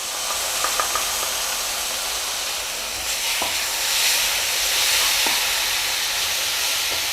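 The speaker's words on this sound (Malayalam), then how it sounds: "ഇനി ഇതിലേക്ക് നമ്മൾ നേരത്തെ അരച്ച് വെച്ചിട്ടുള്ള ആ തക്കാളിയില്ലേ അത് ചേർത്ത് കൊടുക്കാം" Ground tomato puree hits hot oil in a pan and sizzles with a steady, loud hiss, swelling slightly midway and holding close and continuous with a few faint clinks, no voices.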